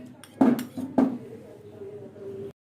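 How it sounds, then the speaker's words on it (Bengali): Whisked sour yogurt is added to a pan, two sharp clinks of a utensil against cookware, followed by a soft scraping pour that trails off, close and fairly quiet. "দিয়ে দিলাম টক দই"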